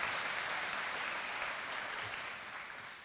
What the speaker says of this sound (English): Always a line that gets applause, at least in Marin County